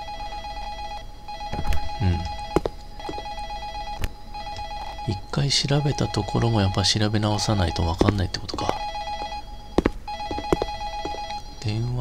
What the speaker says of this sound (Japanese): 電話鳴ってる。